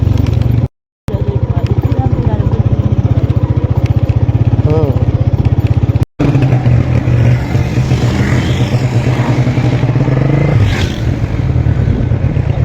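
A motorcycle ridden through a village toward a market hums with a steady close engine drone and wind rumble, with someone talking over it and two brief dropouts.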